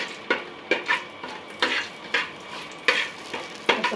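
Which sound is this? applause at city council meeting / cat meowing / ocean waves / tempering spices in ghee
tempering spices in ghee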